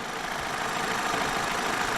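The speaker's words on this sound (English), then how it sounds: "Now the engine is running smooth." An Opel Zafira 1.6 engine idles smoothly with its valve cover area open, a steady, even hum with a hissy broadband texture, close and constant throughout with no talk.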